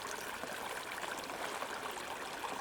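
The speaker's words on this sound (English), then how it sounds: "Stopped at this little stream to filter some water for the first time today." Small mountain stream, Bob Creek, in the Blackcap Basin backcountry, flowing in a steady close hiss and trickle without pause or voices.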